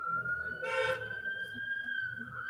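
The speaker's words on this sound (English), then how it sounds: "those are sirens that are outside my house" A steady, high wailing emergency vehicle siren sounds at a distance outside a house at night, holding one tone with a brief burst of noise near the start.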